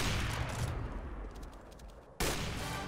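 Gunfire rattles in rapid bursts in the video game CS:GO during a one-on-one match, dense and fairly quiet at first, then cutting abruptly into a sharper, louder shot at the end.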